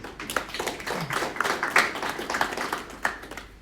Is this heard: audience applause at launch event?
yes